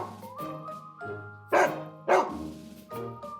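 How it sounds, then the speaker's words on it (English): A big dog barks in a series of deep, spaced woofs, a few louder barks punctuating the sequence, heard close with no talking. "Number 3, fear of big dogs."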